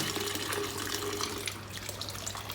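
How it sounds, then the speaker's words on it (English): Beans being washed in water, a close, continuous rush and splash of water swirling in a bowl or pot under a running tap, with no talk. "So I'll wash the beans"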